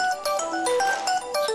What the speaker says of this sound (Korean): 안민혁에게 한 통의 전화가 걸려오고